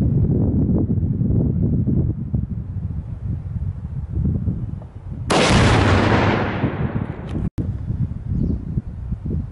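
A Thundershot rimfire cartridge fires outdoors: one sharp, loud crack rises out of steady wind noise and decays over about a second, followed by a brief click.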